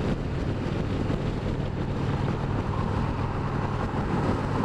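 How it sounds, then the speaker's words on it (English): Steady, loud wind roar buffets the microphone on an Indian Springfield Dark Horse motorcycle at riding speed, a dense continuous rush with a low rumble beneath it and no voices. "So right now, I definitely feel the wind swirling."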